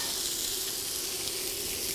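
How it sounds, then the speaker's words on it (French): Lamb medallions fry in butter in a pan, giving a steady, dense crackling sizzle that stays loud and even throughout, close to the mic with no talk. "Donc on a mis nos médaillons d'agneau dans la casserole."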